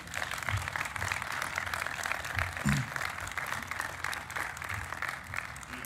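Steady applause from a crowd at a campus ribbon cutting, dense clapping that holds at an even level throughout without pause.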